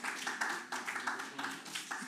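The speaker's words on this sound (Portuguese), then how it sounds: "uma salva de palmas" An audience at a health information session gives a short round of applause, a dense burst of clapping that rises and fades in quick waves over two seconds.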